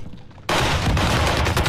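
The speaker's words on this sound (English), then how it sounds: "I'm shooting him down the hole" Gunfire in the video game Warzone, an abrupt loud burst of rapid automatic shots kicking in after a quiet moment and hammering on continuously, close and dense.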